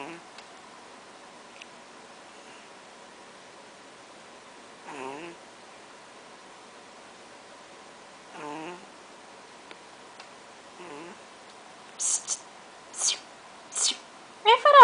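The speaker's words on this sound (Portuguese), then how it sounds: "Tá roncando muito alto, seu dorminhoco." A pet snores while asleep: three soft, evenly spaced snores several seconds apart, faint and close over a quiet hiss, followed by a few short, sharper sounds at the end.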